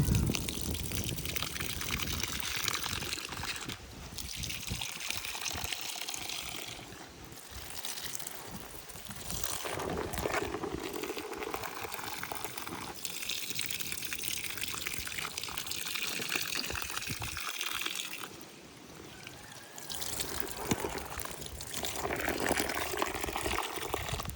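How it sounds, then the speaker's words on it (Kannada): Detergent water pours steadily into a container for soaking new clothes, a continuous close gushing fill that goes on alone with no talk. "ಸರ್ಫ್ ವಾಟರು ತುಂಬ್ತಾ ಇದೆ ಬಟ್ಟೆ ನೆನೆ ಹಾಕೋಣ"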